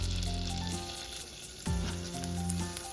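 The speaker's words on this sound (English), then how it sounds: "Put 1 tablespoon of butter into that pan and then add the garlic in." Chopped garlic sizzling in a tablespoon of butter in a pan, a steady close frying hiss with a clatter partway through as it is stirred, no talking.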